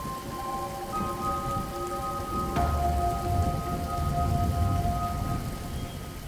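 Steady rain falls in a continuous dense patter, with a soft rumble of distant thunder underneath and a faint tonal hum running through, no voices present.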